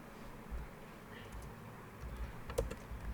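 Faint tapping on a computer keyboard, a few scattered keystrokes over a low background hum, with a couple of slightly sharper clicks near the end.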